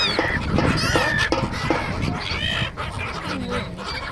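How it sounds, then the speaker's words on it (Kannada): Foreign geese or ducks call from a flock being fed snacks at a waterside spot in Bhavnagar, Gujarat: repeated nasal honks and squawks, close and fairly loud, with a faint voice in the background. "ಇಲ್ಲಿನ ವಿಶೇಷವಾದ ಹಕ್ಕಿಗಳು"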